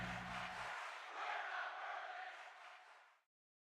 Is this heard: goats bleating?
no